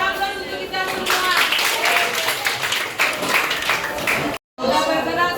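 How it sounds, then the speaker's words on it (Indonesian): A class of students claps together in a sustained, fairly loud round of applause with a few voices mixed in, cutting off abruptly near the end before the noise briefly resumes. "kasih aplaus untuk kita semua"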